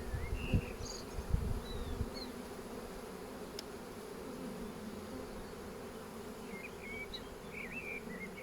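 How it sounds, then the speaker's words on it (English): Steady, dense insect buzzing from a honeybee swarm close by, bees walking down a tree trunk into a hive, continuous throughout, with a few faint bird chirps in the background. "See all the bees walking down the trunk into the hive."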